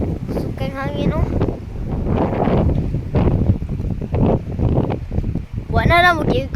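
Strong typhoon wind during Typhoon Basyang in Talibon, Bohol buffets the microphone in loud, continuous gusts, with someone talking over it throughout.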